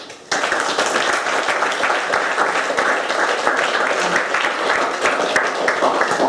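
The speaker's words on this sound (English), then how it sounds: "please just give Liam another round of applause for us" Steady applause from an audience at a chiropractic talk event, dense overlapping clapping that starts abruptly and holds at an even level throughout, loud and close with no speech.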